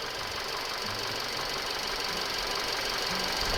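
A Hyundai Grandeur IG with a 2.4 GDI engine idles in its engine bay, giving a steady, close hum with a fine ticking texture throughout. No one speaks.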